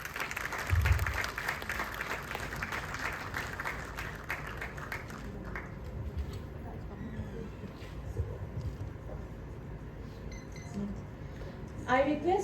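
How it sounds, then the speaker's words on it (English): Applause from an audience at an award ceremony for an oral paper presentation, rising briefly and then giving way to clinking glass, dishes and murmuring crowd noise in a hall. "Round of applause for her"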